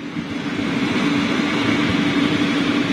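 A Boeing 747 freighter's General Electric engine, the number 2 engine, spools up during start, producing a loud, steady, close-up roar with a sustained whine riding over the low rumble.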